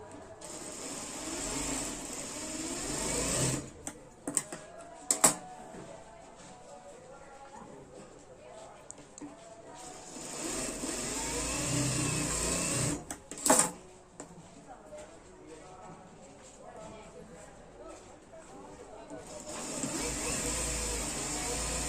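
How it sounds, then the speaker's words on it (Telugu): A sewing machine stitches the front part of a blouse, running in three steady whirring stretches at the start, middle and end, with quieter pauses between them and a voice heard in the background. "ఇప్పుడు నేను ఈ రెండోటి కూడా స్టిచ్ చేస్తున్నాను."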